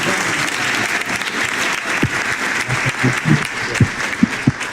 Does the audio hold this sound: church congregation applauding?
yes